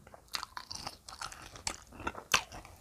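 Crunchy makham mu tamarind pods being bitten and chewed up close, with several sharp crunches in an irregular rhythm between softer mastication sounds, no talking.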